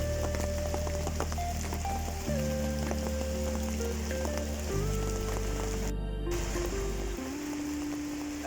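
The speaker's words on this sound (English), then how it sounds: "You see it's raining outside." Rain falls steadily outside at a caravan park on a wet day, a soft, even patter that continues unbroken at a low level with no voices.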